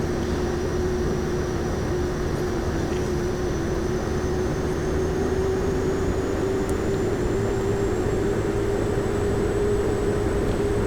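Pilatus PC-12 turboprop on its takeoff roll in the X-Plane 11 flight simulator, a loud, steady engine roar with a thin high whine that slowly rises in pitch throughout.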